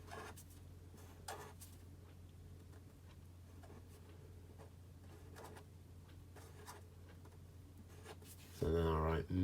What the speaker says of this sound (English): So I'm just going to draw my Minion.